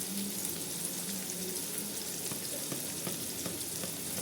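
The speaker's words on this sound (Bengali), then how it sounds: "টমেটোটি দেবার পর কিছুক্ষণ এইভাবেই আমি ফ্রাই করে নেব" Chopped tomato and onion fry in hot oil in a home kitchen pan, a continuous, even sizzle with faint crackles and occasional stirring scrapes, close and steady with no talking.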